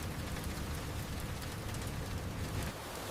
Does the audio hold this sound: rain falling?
yes